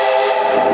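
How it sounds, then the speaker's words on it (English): A loud, steady train whistle on the Frisco Silver Dollar Line holds for under a second, bright and sustained, blowing nearby. "give me 3 tips on that whistle"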